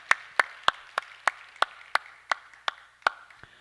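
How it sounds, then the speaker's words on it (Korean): Members of a Korean church congregation clap at a Friday prayer meeting. About a dozen crisp, evenly spaced claps ring out in a steady rhythm, sounding like a single close pair of hands over a faint room background. "우리 박수로 한번 다시 격려하겠습니다."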